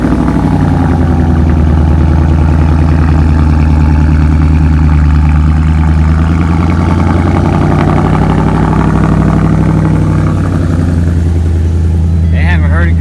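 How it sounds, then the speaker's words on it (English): A wrecked 2017 Ford Mustang GT V8 being rebuilt runs steadily after cranking, giving a loud, continuous low engine rumble that holds throughout, with people talking over it. "we're gonna go ahead and crank it up to let some of this fluid go down into the system"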